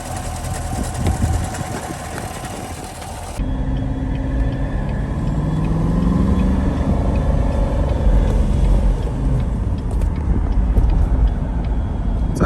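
A damaged Chevrolet C7 Corvette cruises along a main road at about 29 mph, its engine giving a steady, loud low rumble with road and wind noise throughout and no talking.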